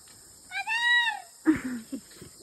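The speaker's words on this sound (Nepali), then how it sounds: "बिरालो कहाँबाट आयो भन्छ होला।" A cat gives a clear, drawn-out meow followed by a shorter, rougher second call, both close and fairly loud against a quiet outdoor background in the jungle.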